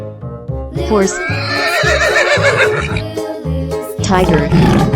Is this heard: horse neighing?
yes